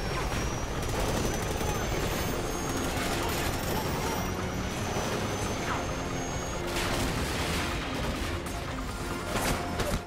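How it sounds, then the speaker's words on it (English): A helicopter going down in the Call of Duty Ghosts video game, its rotor thrum mixed with bursts of gunfire and explosions, steady and fairly loud throughout. "Yeah, helicopter's going down."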